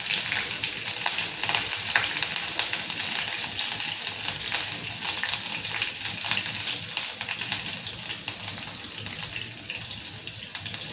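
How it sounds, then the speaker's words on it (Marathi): Chopped chilies and a few fenugreek seeds sizzle in hot oil for bitter gourd pithla. The frying hiss is a steady, dense crackle that runs close and loud through the whole stretch, with no voices. "त्याच्यानंतर या चिरून ठेवलेल्या मिरच्या घालू."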